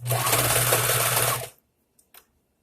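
A sewing machine runs fast and steady while stitching fabric for baby clothes, loud and close for about a second and a half, then stops, followed by two faint clicks.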